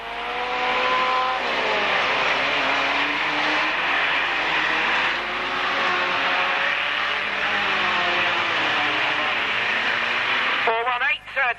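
Racing vans lap an oval short track at a 1991 van meeting, a steady engine drone under continuous race commentary, with a brief louder engine pass at the end.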